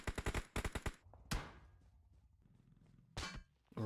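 Gunfire during a video game scrimmage: a quick run of rapid loud shots, one single crack, then a quieter stretch with low rumble before another short burst, with no talking.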